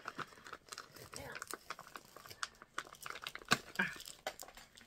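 A plastic pouch crinkles and rustles in short bursts as an Advent-calendar gift is pulled out and unwrapped nearby, with people talking over the crackling.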